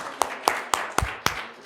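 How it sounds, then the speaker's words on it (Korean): A church congregation claps in rhythm at an anniversary thanksgiving service, sharp evenly spaced claps about a quarter second apart, fairly near. "오늘이 있기까지 우리를 구원하시기 인도하신 하나님께 다시 한번 크게 박수 올려드립니다."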